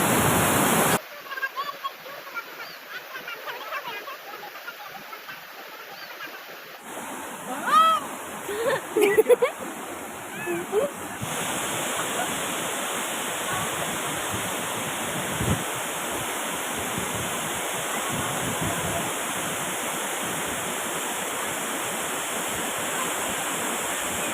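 Lodda waterfall plunges down from a high mountain in a continuous, loud, roaring rush of water. Wind buffets the microphone, and voices can be heard early on before the roar takes over.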